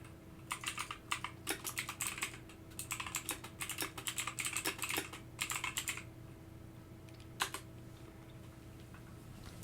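Rapid bursts of typing on a computer keyboard, clustered clattering keystrokes in several runs and then a few isolated taps, close and moderately loud over a steady low room hum.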